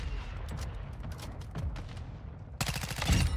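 Gunfire in a first-person shooter video game: dense rapid bursts of shots, loud and close, with a sharper volley near the end.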